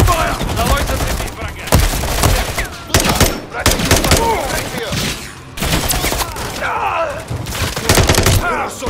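Call of Duty: Modern Warfare 3 firefight: loud, near-continuous automatic gunfire in sustained bursts with brief gaps, mixed with shouted voices and grunts throughout.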